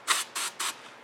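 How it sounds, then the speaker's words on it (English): Starting fluid hisses from an aerosol can into the open air intake of a Craftsman lawn mower with its air filter removed: three quick, close spray bursts at an even pace. "spray some starting fluid in it and see what happens"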